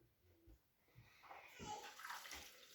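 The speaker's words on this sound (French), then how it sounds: "Je vais ajouter les 1 litre d'eau." One litre of water is poured into a container for homemade almond milk with raisins, a soft splashing gush that builds over a couple of seconds, faint and close, with a few small knocks before it starts.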